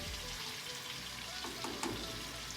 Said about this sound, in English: Just let them sit there and sizzle for a little bit.